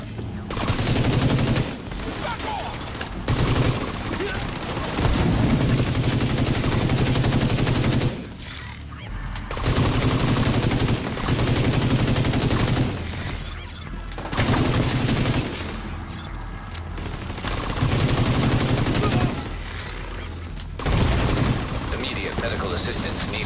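Automatic and rifle gunfire from a firefight in The Division 2 at the American History Museum, loud sustained bursts broken by short pauses, with game voice callouts over the shooting.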